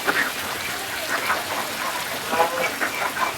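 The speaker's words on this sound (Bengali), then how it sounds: "এখন আমি পানিটা দিয়ে দেবো," Water poured into a cooking pot of chicken curry on a rainy day makes a soft, continuous splashing patter at moderate volume, with faint bird or duck calls in the background.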